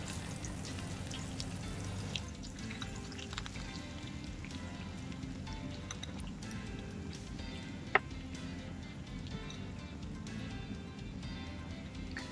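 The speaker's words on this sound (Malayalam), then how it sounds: "അപ്പം ഞാൻ ചൂടെണ്ണയിലേക്ക് ഇട്ട് കൊടുത്തിട്ടുണ്ട്. അപ്പം ഇന്ന് നന്നായിട്ടൊന്ന് ഫ്രൈ ആവട്ടെ" Prawns fry in hot oil over a low flame, giving a steady, dense sizzle with fine crackling pops throughout, close and fairly quiet, with one sharper pop standing out.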